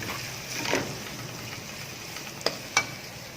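Green chilies hit a hot pan for achari aloo tinday, producing a steady, even sizzle with a couple of sharp utensil clicks near the end.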